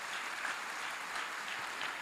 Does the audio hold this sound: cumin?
no